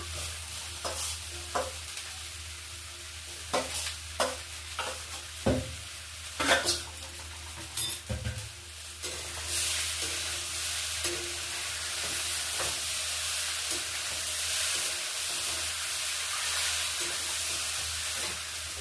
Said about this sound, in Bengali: এবার ফুলকপি ভাজাটাও দিয়ে দিচ্ছি।